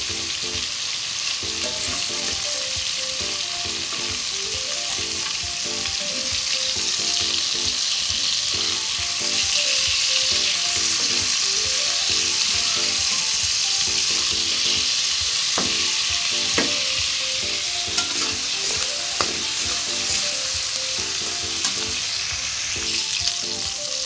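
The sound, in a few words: prawns frying in a pan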